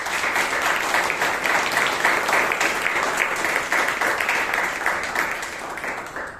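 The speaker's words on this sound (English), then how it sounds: "Let's give him a round of applause." A room full of people at a Toastmasters club meeting in Bangalore clap together in a steady, fairly close round of applause that continues throughout and tapers slightly near the end, with no talking over it.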